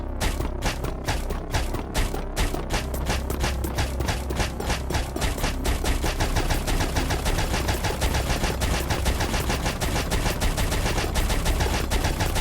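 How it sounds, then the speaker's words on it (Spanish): Facet Piercer crossbow from the Minecraft Ancient Elements mod firing amethyst shards in a steady rapid stream, the shots growing faster and blurring into a loud continuous rattle. "Esta ballesta disparará matistas, dando el mismo efecto que nos hacía daño, y entre más tiempo te quedes disparando, más rápido será su cadencia."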